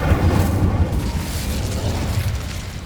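Incendio fire spell blast in the Hogwarts Legacy video game, a dense rumbling boom with crackling fire that stays loud and sustained throughout, with no voices.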